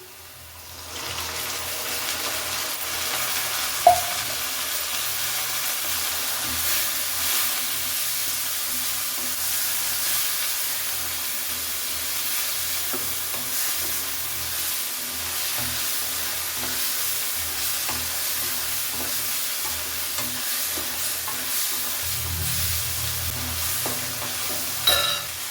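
Field beans (avare kalu) added to a pan for upma with carrot and tomato, sizzling steadily as they fry, with occasional clinks of stirring and one sharp knock, no talking.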